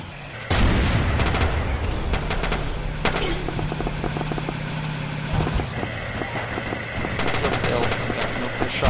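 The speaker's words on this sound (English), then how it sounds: "BMP shooting into GM." Automatic cannon fire from a BMP in the Roblox game Multicrew Tank Combat 4 rattles in rapid bursts over a steady engine drone, loud and sustained with short breaks between volleys.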